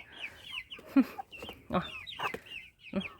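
Faverolles hens cluck and murmur nearby in short, scattered bursts, with a few sharper squawks between soft calls.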